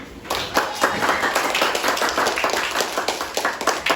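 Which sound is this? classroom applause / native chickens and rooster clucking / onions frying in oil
classroom applause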